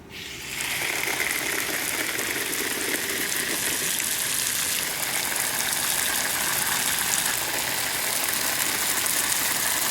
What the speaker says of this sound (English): So let me water these in.